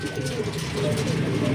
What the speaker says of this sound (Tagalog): So yun mga Sonic, yung ibon natin